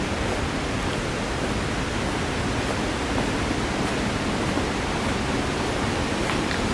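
Broadband roar of river rapids in Rwanda or Uganda, a steady, dense rush of water with no breaks, loud and close throughout.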